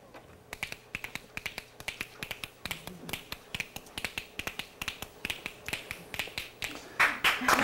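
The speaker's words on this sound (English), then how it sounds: "I can clap with one hand." A television guest performs a one-handed clapping trick, producing a rapid run of sharp, close snapping slaps at a quick steady rhythm that grows a little louder and denser toward the end.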